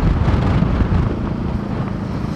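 Very strong wind buffets a microphone outdoors during a typhoon, a loud continuous low roar with gusty surges and no voices.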